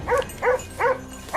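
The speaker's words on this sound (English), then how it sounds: "The chaotic barking of hunting dogs echoed across the empty field" Hunting dogs in an open field give three evenly spaced, fairly loud barks, one roughly every 0.4 seconds, with no voices.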